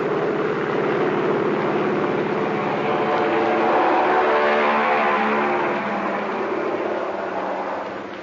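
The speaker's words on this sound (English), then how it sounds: "The pilot revs up his motors. Fly 1 points down the deck and the plane is off." A navy plane revs its motors on an aircraft carrier deck and takes off, giving a loud, steady droning roar that swells and then slowly fades, heard through an old radio broadcast.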